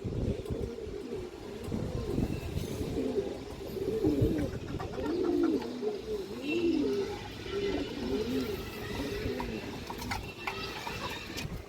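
A loft of many pigeons coos continuously in overlapping, rolling low calls that rise and fall in waves, close and fairly loud, with no talking over them.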